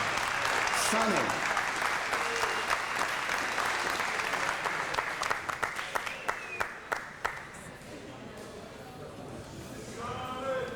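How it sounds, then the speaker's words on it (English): Audience applause for Sonny Parker at a 1994 community event launching a late-night basketball program, a steady wash of clapping that thins into scattered individual claps, with someone speaking over the later part. "Let's give a big round of applause to Sonny Parker"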